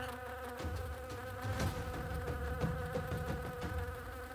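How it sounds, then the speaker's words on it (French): Distant insects buzz across the savanna in a steady, continuous drone, with a soft tonal bed and a few faint taps underneath. "interrompue seulement par le bourdonnement lointain des insectes qui annoncent la chaleur à venir"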